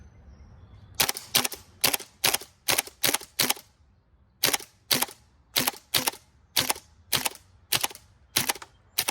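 Gas blowback airsoft FAMAS fires a run of sharp, loud shots in quick bursts, about a dozen cracks spaced with a short pause midway, with no talking over them.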